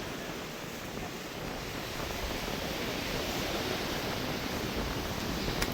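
Strong wind and rough, storm-churned sea pound the Jaffna coast after a cyclone, a dense, unbroken roar of surf and gusts that stays loud and steady throughout with no voices.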